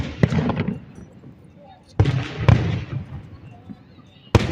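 Independence Day fireworks go off in several sharp cracks and booms, some close and loud, spaced irregularly with rumbling decay, while voices talk underneath.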